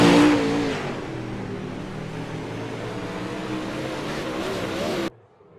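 Open wheel modified race cars on a dirt oval at Oswego Speedway, several engines roaring and revving together as they head out onto the track, a loud sustained drone that cuts off abruptly.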